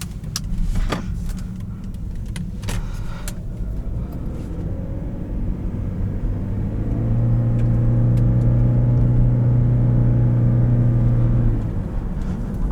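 A 2016 Lexus CT200h hybrid with a CVT driving along, with low road rumble and faint clicks early on, then a steady, louder engine drone that holds level for several seconds before easing off.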